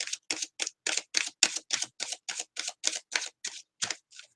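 Tarot cards shuffled in big chunks, giving about fourteen crisp, evenly spaced riffling bursts close up with no talking.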